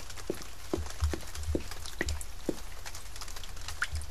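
Water drips in the survival video game The Forest, soft single drops falling about twice a second over a quiet ambient hum, with no voices.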